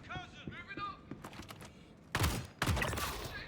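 Bursts of turret gunfire in a video game, two loud broadband volleys erupting in the second half after a stretch of softer game sounds and a player talking.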